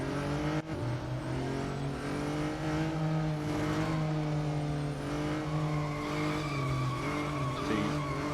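A McLaren race car in the mobile racing game Real Racing 3 holds a steady, buzzing engine drone at high revs with slight pitch shifts, continuous and fairly loud, with no talk.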